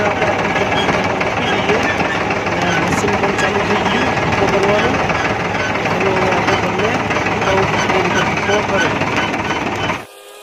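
A farm machine's engine runs outdoors at a field, a loud, dense and steady rumble with clatter throughout. It cuts off abruptly just before the end.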